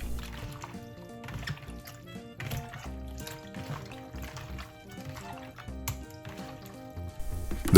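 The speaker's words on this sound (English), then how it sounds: "Then we're adding 1 cup of coconut vinegar" Coconut vinegar poured into a pot of cooking chicken gizzards, a soft liquid trickle and splashing under a rhythmic background beat, no talk.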